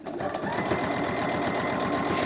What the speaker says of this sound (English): Now you're gonna go to your machine and you're going to stitch 2 parallel lines.